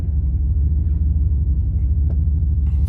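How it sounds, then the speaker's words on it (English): Car transporter trucks drive through a vehicle lot, a steady low engine rumble close by with no talk. "So these are all the transporters picking up cars."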